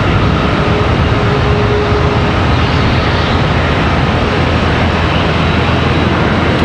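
Embraer ERJ 145 regional jet departing Charlotte Douglas International Airport, heard as a steady, loud broadband jet roar that holds evenly throughout with no voices.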